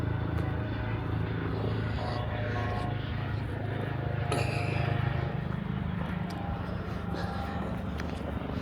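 A helicopter passes overhead above a London garden, its engine and rotor making a steady, loud rumbling drone that lasts throughout, with faint voices mixed in.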